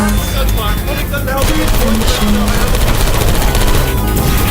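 Rapid automatic gunfire from turrets in the Portal 2 video game rattles loudly and densely throughout, mixed with game music and other effects.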